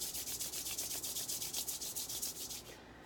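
Palms rubbing briskly together during a breathing exercise, a rapid rhythmic swishing of about fifteen quick strokes, close and fairly soft, stopping abruptly near the end with no talking.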